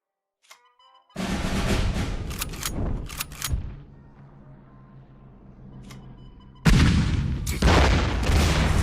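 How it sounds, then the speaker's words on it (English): Artillery fire from the WWII card game KARDS: a loud booming barrage of explosive blasts with rumbling decay between them, followed by a second heavy burst of gunfire-like impacts, with no talking. "Artillery."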